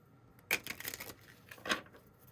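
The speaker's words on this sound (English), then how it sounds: "this part of the reading where we're shuffling and getting settled into the energy" Starseed Oracle cards are shuffled during a card reading: a few short, soft papery bursts of riffling and sliding, close by and quiet, with no talking.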